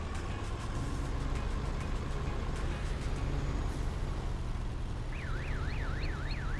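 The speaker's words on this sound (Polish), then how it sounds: "Ten dźwięk do cofania jest niesamowity. Mogliby zrobić pik, pik, to nie, zrobi wiu, wiu, wiu, wiu." Reversing warning of a truck in Farming Simulator 2019, a rising and falling electronic wail that enters near the end over a steady low engine drone and a busy in-game background.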